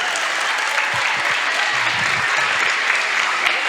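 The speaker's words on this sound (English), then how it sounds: "Give her a round of applause." An audience of schoolchildren on a school tour applauds in a dense, even wash that holds for several seconds, with faint voices underneath.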